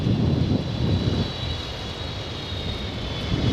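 An EVA Air Boeing 777 with GE90 engines, arriving from Taipei at Los Angeles LAX, makes a broad, steady jet roar with a high whine, loud and close, no speech.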